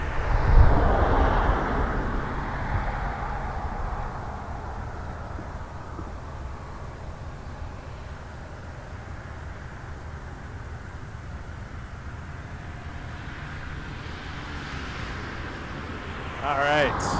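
A jet airplane at Toronto Pearson Airport rumbles steadily from a distance, its broad engine roar fading slightly midway and swelling again, with faint radio chatter in the background.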